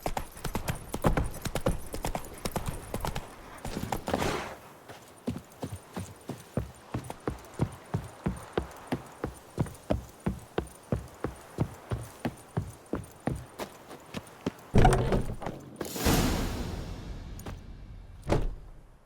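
Horse galloping in The Witcher 3, hooves clip-clopping in a steady fast rhythm of loud close beats for about ten seconds, framed by a rushing noisy burst at the start and near the end.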